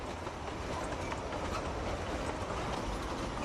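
The Matheran Light Railway, a little hill-station train in India, rolls along with a continuous rumbling, clattering rail noise, steady and fairly close, with no voices.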